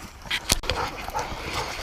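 Hunting dogs yip and whimper in quick, excited bursts close by in a swampy outdoor setting, mixed with rustling noise.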